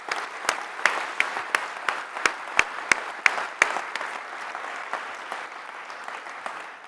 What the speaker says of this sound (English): So if we can give them a round of applause, that would be great.